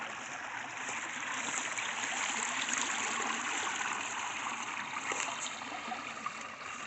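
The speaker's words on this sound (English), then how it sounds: "I see water just coming out from underneath the structure." Water from an underground spring streams out from beneath an old grist mill structure, a close, steady rushing and trickling flow that stays constant with no voices over it.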